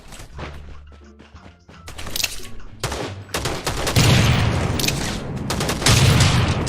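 Rapid bursts of gunfire from the Rules of Survival battle game crackle loudly and continuously, dense volleys building in intensity with heavy low thuds, while a faint voice talks early on.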